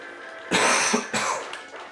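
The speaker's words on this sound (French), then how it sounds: "Donc je tousse de temps en temps" Two close, harsh coughs in quick succession, the second slightly weaker, over a quiet background.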